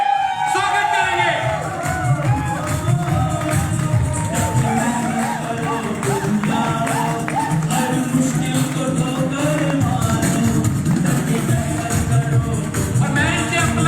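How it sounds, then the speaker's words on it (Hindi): An audience at a business gathering claps and cheers continuously, with whoops, shouts and crowd babble mixed into the steady clapping and music-like tones underneath. "जोरदार तालियों से स्वागत करेंगे।"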